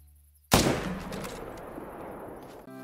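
A single loud gunshot at a lion in a hunting video game cracks out after a short silence, then trails into a long rolling echo that fades over the next two seconds.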